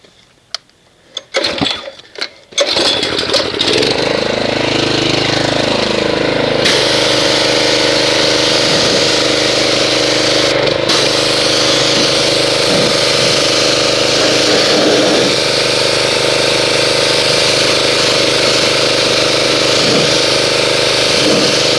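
Pressure washer spray rinsing car wheels and tires, a loud steady hissing rush with a motor drone underneath that runs continuously after a few brief clunks at the start.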